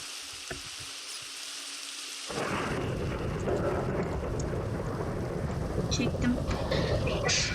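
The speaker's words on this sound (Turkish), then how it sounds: "Yağmuru dinle kanka." Steady rain hiss with low rumbling thunder in Minecraft, quiet at first and then swelling into a fuller, louder downpour that continues to the end.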